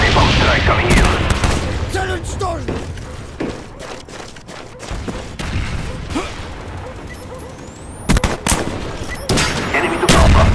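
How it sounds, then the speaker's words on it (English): A Call of Duty Black Ops multiplayer match with a napalm strike: sharp gunshots and loud explosive bangs crack over a dense rumbling din, with scattered shots and a heavy burst near the end and voices mixed in. "Napalm strike coming in."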